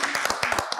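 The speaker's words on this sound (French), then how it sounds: "applaudissez pour ça" A live audience claps briefly at a comedy show, a quick burst of several hand claps that sounds close and fairly loud, with no talking over it.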